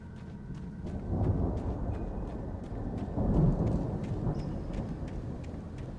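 A thunderstorm in the video game Alan Wake Remastered brings steady rain and deep rolling rumbles of thunder that swell twice, with a faint regular ticking running under the storm.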